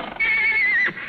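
A mare gives one loud, close whinny lasting just under a second. It is a high, wavering squeal that rises and then drops off at the end, set against quiet surroundings.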